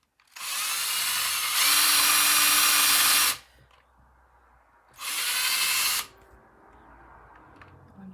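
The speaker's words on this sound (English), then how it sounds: "I'm just going to follow it around and drill holes all the way down." A power drill bores holes into a pumpkin in two loud, close bursts of high whirring, the first about three seconds long with a pitch change partway, then a shorter second burst after a brief pause.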